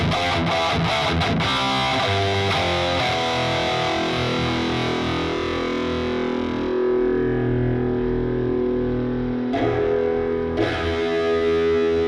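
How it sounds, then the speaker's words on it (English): Natural reverb applied to a synth loop in the Dustbin iOS app, a dense, distorted wash of sustained tones that swells and smears into a roomy tail, playing steadily and loud with no voices. "So a bit of natural reverb."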